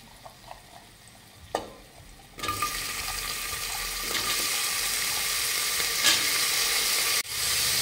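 Raw peeled potato pieces frying in ghee for a fasting pulao, a steady loud sizzle after a few soft kitchen knocks, with a brief clatter near the end.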